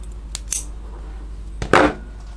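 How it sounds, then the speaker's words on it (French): Scissors cutting crochet yarn, several close, crisp snips: a couple of light clicks early on, then one louder, sharper cut near the end. "On coupe le fil"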